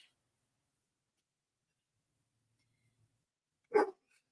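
A single short dog bark sounds once from the background, loud against near silence, with nothing else around it.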